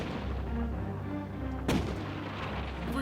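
A single heavy boom from a 4-pounder cannon firing aboard a ship, standing out once over a constant low rumble of background noise.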